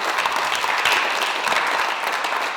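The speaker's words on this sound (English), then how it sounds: "Give them a big round of applause." A short burst of steady audience applause from a gathered group, dense clapping with no voices over it.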